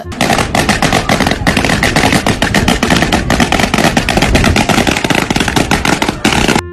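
Firecrackers go off in a long, loud, rapid-fire string of sharp cracks, nearly continuous for several seconds with a brief pause near the end.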